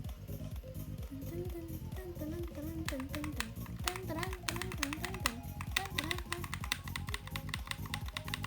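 Rapid, steady clacking of computer keys, growing busier partway through, under a voice talking.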